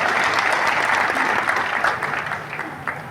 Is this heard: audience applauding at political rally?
yes